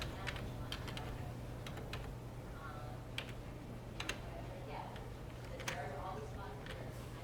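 An AirPort ID is typed on a Mac keyboard as a series of quiet, scattered key clicks over a low steady hum, with a voice speaking faintly underneath.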